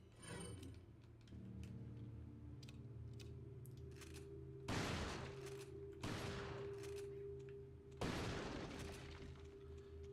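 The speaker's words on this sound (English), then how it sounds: "Or maybe I shoot it with a shotgun." Shotgun blasts in the PC game Resident Evil 4 HD, three loud booming shots spaced about 1.5 to 2 seconds apart over a steady droning game soundtrack.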